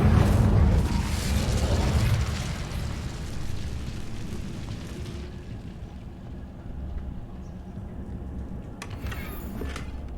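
An Incendio fire spell cast in Hogwarts Legacy gives a loud, rumbling whoosh of flame that fades into a sustained roaring hiss, with a brief crackle near the end.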